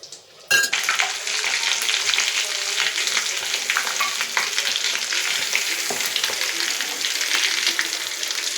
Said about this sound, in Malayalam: ഇനിയിട്ട് നമുക്ക് ഫ്രൈ ചെയ്തെടുത്താൽ മതി.